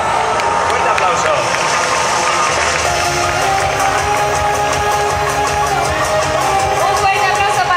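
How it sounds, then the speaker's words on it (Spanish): Audience at a cosplay catwalk at the Salón del Manga de Valencia, steady loud clapping and cheering from a crowd filling the hall, with a presenter's voice over it. "Fuerte aplauso."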